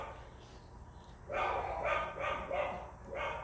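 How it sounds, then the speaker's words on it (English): Dogs bark outdoors through open doors, a burst of four or five sharp barks at a moderate distance, faint and slightly muffled against a quiet room. "Forgive the dogs out here."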